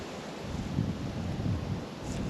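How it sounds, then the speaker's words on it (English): Strong wind roars steadily into the microphone during snowfall at Ritter Farm Park, Minnesota, a low buffeting rumble with no voices. "It's extremely windy, and it is still snowing."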